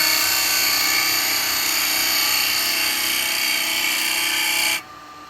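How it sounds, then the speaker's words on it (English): A wood lathe spins while a spindle gouge cuts into the turning stock, giving a loud, steady whirring whine that runs unbroken and then stops abruptly just before the end. "I'm going to use my spindle gouge because I want to come in"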